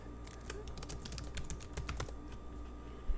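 Rapid, uneven keystrokes on a computer keyboard as a username and password are entered, crisp clicks close up over a low steady room hum, with no talking.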